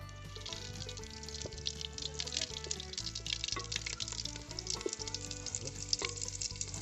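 Two bay leaves, two dried chillies and a little cumin frying in a hot kadai, a continuous crackling sizzle under a steady background of music, with no talk.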